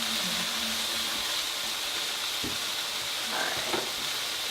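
Butter, still slightly cold, melts and sizzles in a hot pan while being spread around, a steady faint hiss with a few soft scrapes and light clicks near the end.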